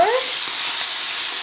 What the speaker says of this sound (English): frying my tuna a little.